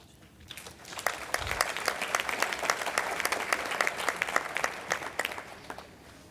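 Audience members at an architecture conference gala in a hall burst into applause that swells after a brief pause and stays full and steady, with many overlapping claps at moderate distance and no voices over them.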